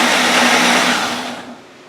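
A Ninja blender running on its mix setting to break up chopped chicken salad, a loud steady whirring roar that fills the first second and a half, then winds down and fades as the motor stops.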